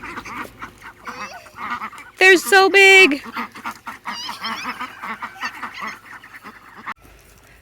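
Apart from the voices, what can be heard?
ducks honking on a farm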